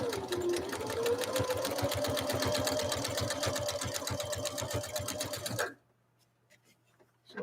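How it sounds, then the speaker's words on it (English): A Husqvarna Viking sewing machine stitches a 3-point zigzag in a fast, even rhythmic chatter with a rising motor whine for several seconds, then stops abruptly, leaving a low hum and a few faint clicks. "we'll lay down this next stitch line"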